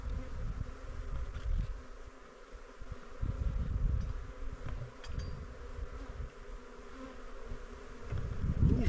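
Bees buzz steadily and close during a honey harvest at a nomadic camp, a dense continuous hum with individual insects rising and fading as they pass.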